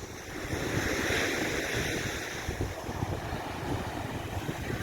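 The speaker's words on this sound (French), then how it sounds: "Il y a un peu de vent." Steady wind roars across the microphone at the seaside at high tide, with surf rumbling underneath in a continuous, fairly loud wash and no voices.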